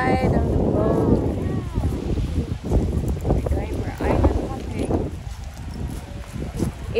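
Steady wind and engine rumble of a boat moving over open sea near Sumilon Island, Cebu, Philippines, with people talking faintly underneath.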